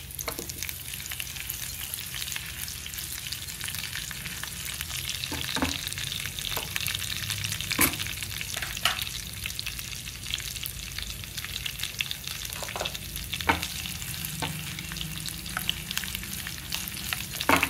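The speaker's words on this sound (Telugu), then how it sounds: "కరివేపాకు కూడా వేసుకోవాలండి." Curry leaves frying in hot tempering oil, giving a continuous close crackling sizzle with occasional sharper pops and spatters over a steady hiss.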